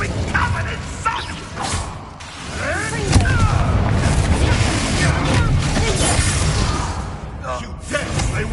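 An Incendio fire spell is cast in Hogwarts Legacy: rumbling, booming bursts and mechanical clatter roll through the game scene, mixed with voices speaking.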